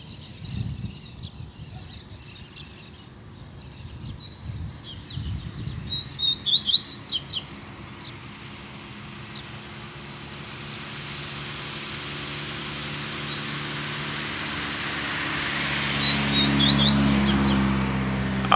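A double-collared seedeater sings in bursts of bright, rapid chirps and trills, near at first and again toward the end, over a steady low rumble of traffic-like background noise; no one speaks.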